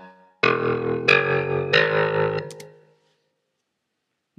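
A short musical phrase entered by step input in Logic 9 plays back as three loud, buzzy sustained notes in even succession, then a couple of faint clicks and a decay into silence.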